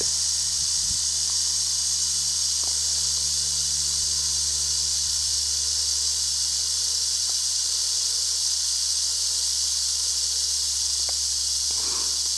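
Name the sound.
rattlesnake rattling its tail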